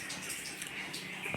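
Rice and chana dal being rinsed in water in a home kitchen, a brief continuous sloshing and trickling close by.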